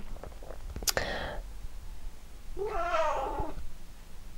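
A house cat gives two drawn-out meows, the first sharp and brief, the second longer and wavering, both close and fairly loud in a quiet indoor room with no talking.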